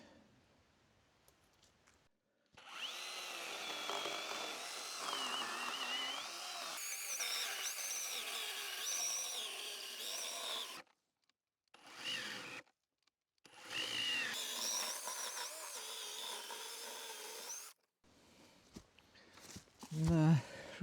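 A power saw cutting wood runs in long, steady whining stretches, cuts out abruptly, briefly restarts and stops again, ending with a few thumps; people talk faintly between runs.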